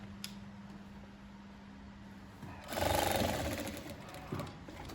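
A sewing machine runs steadily with a low motor hum while stitching a patchwork bag, swelling louder for a short burst of fast stitching near the end, close up with no talk.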